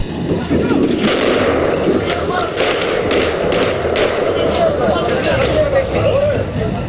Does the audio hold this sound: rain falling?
no